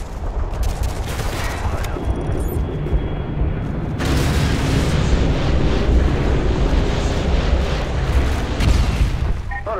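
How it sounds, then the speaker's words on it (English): Heavy explosions and dense gunfire from a remote-controlled Predator missile strike in Modern Warfare 2, a continuous loud roar with a sharper, stronger blast surge midway that keeps rumbling to the end. "Use the remote control predator missile!"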